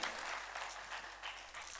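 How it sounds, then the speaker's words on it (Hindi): Audience applause at a Hindi literary and journalism award ceremony, a dense steady clatter of many hands clapping together for a short burst, fairly close and even throughout. "एक बार तिवारी जी के लिए तालियां, बहुत बहुत अभिनंदन।"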